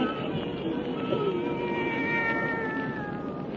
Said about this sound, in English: Satan, her wise black cat